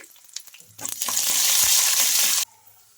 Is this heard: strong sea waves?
no